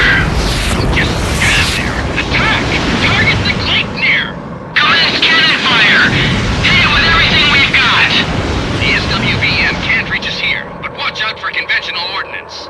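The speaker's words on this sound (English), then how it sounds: "Target the Gleipnir! Commence cannon fire!" Booming naval cannon fire and explosions thunder in Ace Combat X, mixed with aircraft engine roar and urgent radio voices talking throughout.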